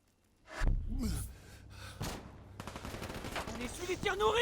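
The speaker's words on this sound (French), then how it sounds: "On essuie les tirs nourris!" Heavy gunfire in a video game, starting with a few isolated loud shots and then breaking into a rapid, sustained volley of cracks, with voices mixed in.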